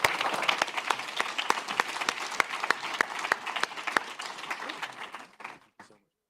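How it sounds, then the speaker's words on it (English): A conference audience at a fintech event in Leeds gives a panel a round of applause, dense and fairly loud clapping that carries steadily for several seconds before fading out abruptly. "We have a round of applause for our panel"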